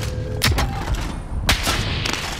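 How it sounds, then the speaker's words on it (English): In a multiplayer shooter, sniper shots ring out in two sharp, loud cracks about a second apart. Each has a booming tail, and lighter impacts and game noise sound between them. "Oh, I'm getting sniped at!"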